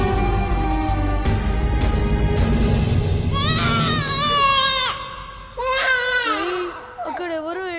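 Someone sobbing and wailing in distress at a moment of danger beside railway tracks, cries rising in wavering pitches over a loud, dense background, with breaks between bursts.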